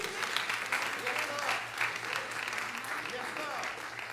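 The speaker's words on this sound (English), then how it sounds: "give the Lord a hand clap of praise for his word." A church congregation claps hands in praise during a Sunday sermon, a dense, steady wash of applause from many people with voices calling out over it.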